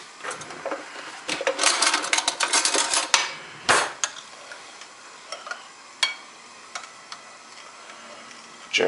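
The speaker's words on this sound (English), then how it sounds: "gently stir that with a spoon" A spoon stirs liquid in a glass while making a cheese sauce for cauliflower, giving light clinks and swirling scrapes that are busiest early on, then thin out to a few scattered taps with quiet pauses.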